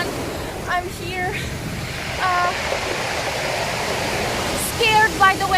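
Wild ocean surf at Oarai on the Japanese coast near Kamiiso torii and Isosaki Shrine, a steady broad roar of breaking waves close by, with scattered voices and faint chatter over the wash.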